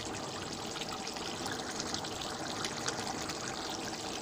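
Water poured into a cooking pot of rice while making chicken dum biryani, a continuous close rushing splash that stays even for several seconds.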